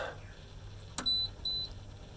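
Two short electronic beeps from the control panel of a Speck Badu variable-speed swimming pool pump while its timer is set, preceded by a click, over a low steady hum.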